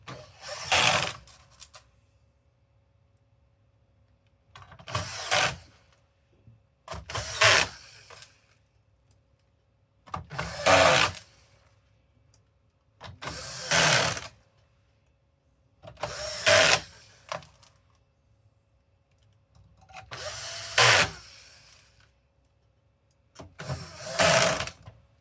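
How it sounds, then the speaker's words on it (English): Screws driven one after another into a PS5 Slim console during reassembly, eight separate short whirring bursts of an electric screwdriver spaced a few seconds apart, close and fairly loud with quiet gaps between. "we can start putting all these screws in"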